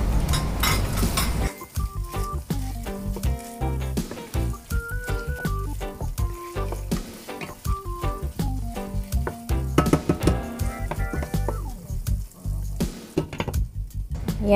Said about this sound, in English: Dito naman, ilalagay ko na yung onions na hiniwa natin. Then, let's add the garlic.